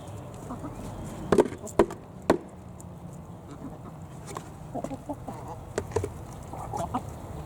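Chickens cluck softly nearby while eating scraps, with a few sharp pecking taps, steady low murmuring throughout.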